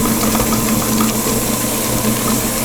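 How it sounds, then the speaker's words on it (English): Electric mixer running on low speed while making a gluten- and dairy-free strawberry shortcake, a steady close motor whir with a constant hum and no breaks. "we'll put the mixer on low after we scrape down the bowl"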